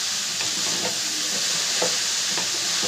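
Shredded cabbage and fried prawns hiss steadily in a hot pan as a spatula stirs them, soft scraping strokes recurring every second or so over the constant sizzle.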